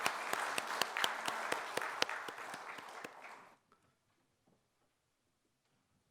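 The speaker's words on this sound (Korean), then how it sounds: "영광의 박수 올려드리겠습니다." Congregation applauding during a Sunday church service, a dense burst of clapping with sharp individual claps standing out, fading quickly after about three seconds into near silence.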